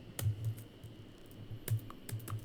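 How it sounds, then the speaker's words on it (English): Keys clack on a computer keyboard in short bursts of a few quick presses with brief pauses between, close and fairly quiet, with no talking. "We'll type that in."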